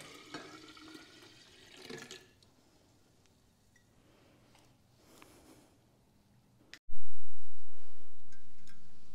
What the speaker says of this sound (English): Here we go, 1 quart of water.